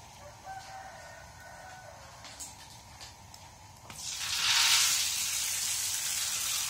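Rice paper crackers frying in hot oil: a soft background gives way to a loud, broad sizzling hiss that swells about two-thirds of the way through and holds steady to the end, with no talking.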